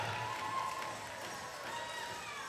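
A crowd at an outdoor powwow competition cheers and claps in a continuous, fairly distant roar with a few whoops rising above it.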